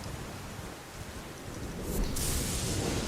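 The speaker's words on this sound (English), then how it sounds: "Oh, and don't get hit by the lightning either." Stormy rumble of thunder and lightning in Elden Ring over a steady rush of rain, swelling into a louder crackling burst toward the end.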